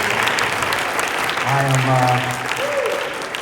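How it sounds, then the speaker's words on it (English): Audience clapping in support of preachers at a church gathering, a steady broadband wash of hands with a sustained tone and a voice briefly heard over it. "let's just give them just a hand clap of support"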